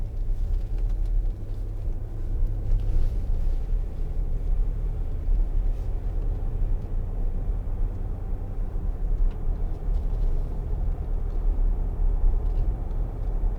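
A Land Rover Discovery 3 2.7 TD V6 HSE with air suspension rolls along a bumpy road, giving a steady, close low cabin rumble with faint road noise throughout and no voices.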